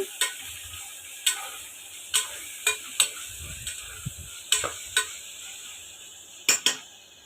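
Coriander powder and spices stirred in a pan for Andhra-style mutton masala curry, with a low sizzle under sharp, irregular clinks of a spoon knocking the pan rim.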